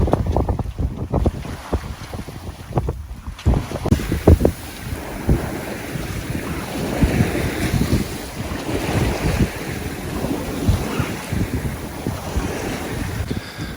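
A sailboat sailing close hauled under genoa only in strong westerly wind of about 20 knots with gusts, with loud wind buffeting the microphone, rushing water and wave slaps against the hull, continuous and without voices.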